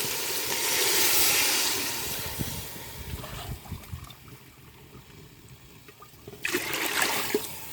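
Water is poured into cooking masala in a pot for egg biryani, making a close gushing sizzle at first that settles into a quieter bubbling simmer, then a second burst of pouring near the end.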